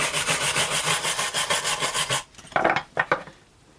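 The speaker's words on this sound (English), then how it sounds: "it's definitely coming up quite nicely with the manual brushing" Manual wire brush scrubbing rust and paint off a pair of 5-inch Buck & Hickman pliers, a loud rapid back-and-forth rasping that runs steadily, then stops and gives way to a few short separate scrapes.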